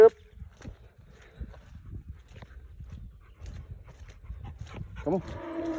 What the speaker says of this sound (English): Cow's just screaming.